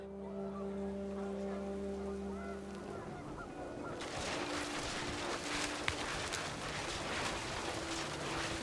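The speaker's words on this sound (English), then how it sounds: "The rain came down in buckets then" Rain in the video game What Remains of Edith Finch, starting as a soft hiss and swelling into a heavy, steady downpour, preceded by droning goose-like honks that fade out.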